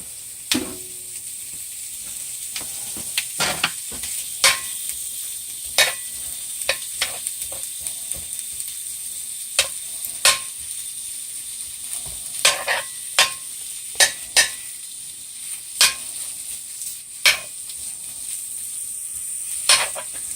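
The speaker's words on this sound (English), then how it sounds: "We're just going to keep flipping this around in the pan until it's hot." Smoked beef brisket heats in a pan with a constant hissing sizzle, punctuated by sharp clicks and scrapes as it is flipped and turned repeatedly.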